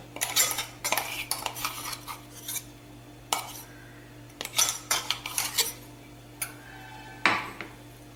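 A utensil scrapes and clinks against a bowl while spiced stuffing paste for bitter gourd is mixed, close intermittent metallic taps and scrapes in irregular bursts.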